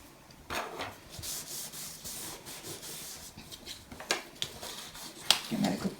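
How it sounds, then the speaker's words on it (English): A folded paper edge on a craft camera project is burnished with firm, repeated rubbing strokes, close and soft, followed by a few sharp clicks and taps. "Give that a good burnish."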